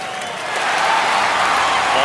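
A home crowd in MLB 21 The Show cheers and applauds in a steady, loud stadium roar that swells slightly and then holds, with a commentator talking over it.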